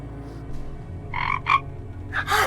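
A frog croaks in short raspy bursts, two close together in the middle and a louder, denser burst at the end, fairly near and with no talk over it.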